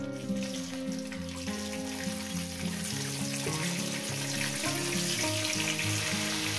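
Cauliflower pieces fry in hot oil with a continuous bubbling sizzle, overlaid by loud steady background music throughout.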